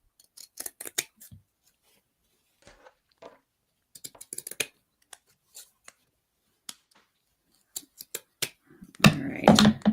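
Scissors trimming burlap for a mason jar lid flower craft, a sparse run of crisp, close snips scattered over quiet gaps, ending in a louder burst of rustling handling.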